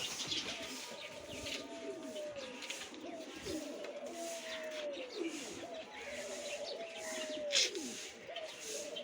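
Pigeons coo repeatedly in soft, rolling phrases close by, one call overlapping the next against a steady background hiss, with no talking.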